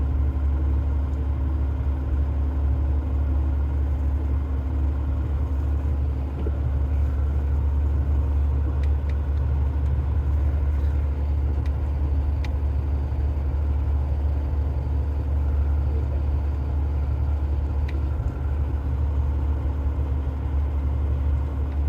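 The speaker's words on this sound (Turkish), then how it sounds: "Sadece motor freniyle iniyoruz." A heavy truck descends a road in Turkey on engine braking alone, its engine a steady, loud low drone with a constant rumble throughout and no other sounds.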